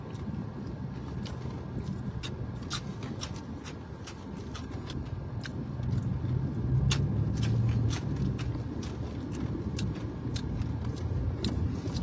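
Steady road traffic rumbling nearby, a continuous low drone of passing cars that swells slightly midway, with faint clicking ticks scattered over it.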